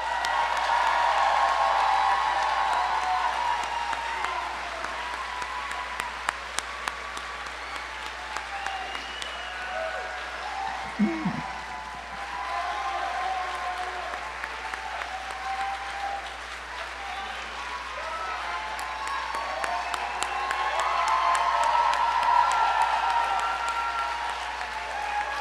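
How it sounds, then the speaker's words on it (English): Sustained applause from a large graduation ceremony audience, steady and fairly loud throughout with a few sharper claps and brief cheers rising near the end. "Can we just give them another round of applause?"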